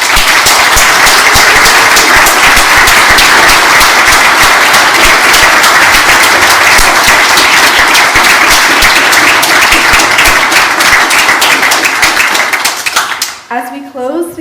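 Sustained audience applause following a mayoral candidate forum, dense steady clapping from a large crowd that runs loud for about thirteen seconds before trailing off abruptly.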